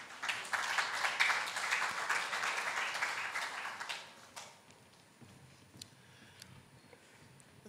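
Audience applause at a conference on legal and regulatory frameworks and investment promotion, dense clapping for about four seconds before fading into a quiet room with a few scattered claps.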